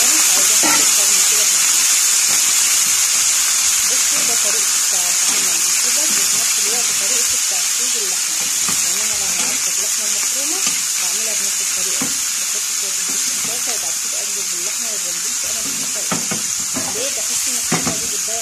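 Chopped onions and green peppers frying and stirred in a pan, a steady loud sizzle and hiss throughout with repeated scraping stir strokes, no talking.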